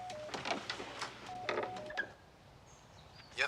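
Telephone dialing with a run of short, clear touch-tone beeps in quick bursts, close and fairly loud, separated by brief pauses, ending in a faint rising tone, with no talking.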